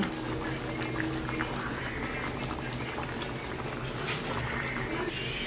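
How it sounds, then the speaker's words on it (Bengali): A thin Bengali-style catla fish curry broth with vegetables boils in a pot, giving steady close bubbling and popping with small crackles throughout. "ঝোলটা ফুটে গেছে"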